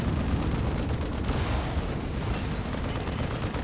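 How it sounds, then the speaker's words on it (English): Loud, sustained roar of heavy fire in a large Dawn of War Unification battle, with plasma cannon blasts merging into a dense, unbroken wall of explosive gunfire and rumble. "Do not want to be on the end of that plasma gun"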